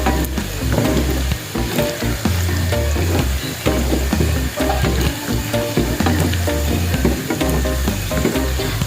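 Fatty meat fries loudly in a pan, a dense continuous sizzle and crackle with rhythmic scraping and stirring, close up and with no voices.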